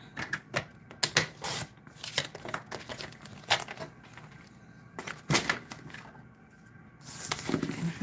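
A paper trimmer slices cardstock for a handmade stamped card, sharp scraping strokes and clicks coming in short bursts, with paper rustling and handling noises between cuts.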